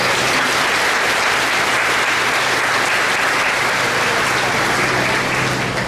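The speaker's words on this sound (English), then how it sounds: "They deserve a big round of applause." A graduation commencement audience applauding, a dense, loud, continuous wash of many hands clapping that holds steady throughout.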